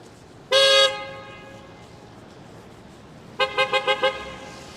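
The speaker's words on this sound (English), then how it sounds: "that car in the red just got honked at." A car horn blares in one long honk, then after a pause comes a quick series of four or five short toots, nearby on a street.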